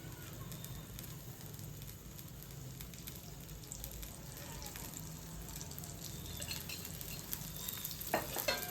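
Navadhanya adai, a mixed-grain pancake, fries in oil on a pan, giving a steady low sizzle with small crackles, quiet and continuous, rising a little toward the end with a few sharper clicks.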